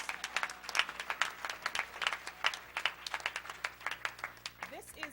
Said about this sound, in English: We must certainly, Attorney Hardy, give him a round of applause